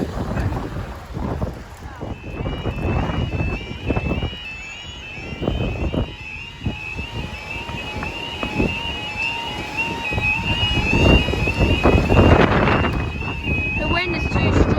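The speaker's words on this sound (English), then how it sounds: "The wind is too strong." Strong, extreme wind buffets the microphone at Sleaford East railway level crossing, a loud continuous roar with gusts rising and falling throughout, mixed with steady tonal whines from crossing equipment.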